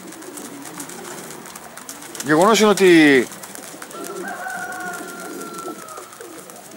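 Outzidika pigeons, a breed kept in Karditsa, Greece, give one loud, close rolling coo lasting about a second, with someone talking in Greek just before and fainter bird sounds after.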